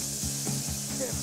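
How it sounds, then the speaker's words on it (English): Butter and flour sizzle steadily in a pan for breakfast pizza, with a spoon scraping and stirring in a rhythmic pattern over the constant frying hiss. "we're gonna stir in tablespoon, a little over a tablespoon of flour."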